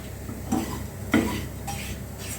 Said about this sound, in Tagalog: Huwag niya lang siyang tigilan ng halo kasi pwedeng masunog yung ilalim.